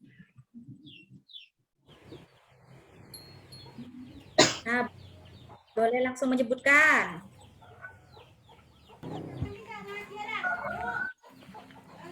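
Chickens cluck and a rooster calls around a house, in brief bursts of varied loudness that mix with a teacher's speech and some coughing.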